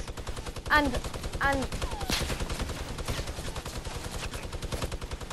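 Rapid bursts of automatic gunfire from a Fortnite video game trailer, dense and continuous, with a few louder rattling volleys and whizzing shots, while a voice briefly speaks over it.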